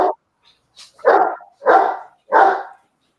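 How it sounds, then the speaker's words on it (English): A dog barks close by in a quiet room: a short yip, then three loud, full barks spaced evenly about half a second apart. "Do you hear Hagrid barking?"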